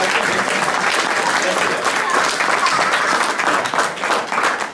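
Steady, dense applause from a live audience fills the room at an even loudness from start to finish, with no pauses.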